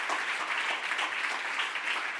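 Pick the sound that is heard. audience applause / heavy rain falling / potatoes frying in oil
audience applause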